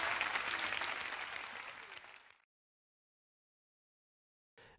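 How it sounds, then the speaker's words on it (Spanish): Studio audience applause for a Spanish singer on a television programme, a full burst of many hands clapping that gradually thins and fades to silence, followed by a brief faint noise near the end. "Un aplauso muy cariñoso para este gran artista de España en nuestro programa"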